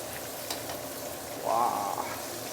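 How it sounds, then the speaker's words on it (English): Chicken drumstick deep frying in hot oil, a steady low sizzle and bubble running throughout, with a brief brighter surge of crackle midway. "I'm going to slowly deep fry this"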